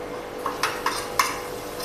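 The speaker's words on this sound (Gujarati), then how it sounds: "તેલ ગરમ થઈ ગયું છે તો તેમાં આપણે 1 ચપટી હિંગને ઉમેરી દઈશું।" Asafoetida and turmeric are stirred into a little hot oil. Under a faint sizzle, a spoon strikes the pan in four sharp metallic clinks, close by and with no speech.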